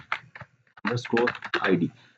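Computer keyboard typing while a formula is entered in an Excel spreadsheet: a few scattered clicks, then several dense bursts of keystrokes, close and moderately loud.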